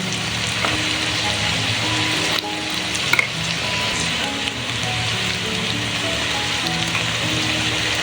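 A paste of ginger, garlic and mustard sizzles in hot oil over browned onions for a fish curry, a dense, even crackle of frying that continues unbroken with faint stirring clinks.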